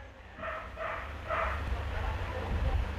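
Dog barking in an animated show, several yapping barks in a row under a continuous low rumble, with a voice speaking over it.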